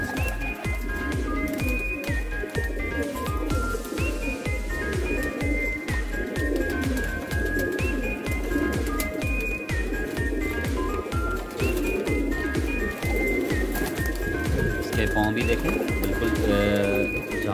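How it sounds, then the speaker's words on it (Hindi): Breeder pigeon cooing close by in a loft among other pigeons, repeated throaty coos under steady background noise and someone talking throughout. "दोस्तों मैं आपको एक ब्रीडर कबूतर दिखा रहा हूँ इस वक्त"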